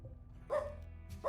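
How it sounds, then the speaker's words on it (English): A dog gives two short barks, the first fuller and the second clipped, faint and somewhat distant over a low steady hum, with no talk. "What is he barking at?"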